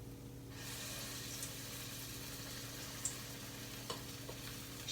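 Spoonfuls of vada batter with onion, green chilli and curry leaves fry in hot oil, giving a steady close sizzle that starts abruptly, with a few sharp spits and clinks along the way.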